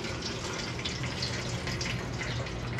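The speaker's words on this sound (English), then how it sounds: "I'm gonna take this pickle juice, and I'm gonna pour it right in here" Pickle juice pours in a steady, continuous splashing stream, close and moderately quiet, with no voices over it.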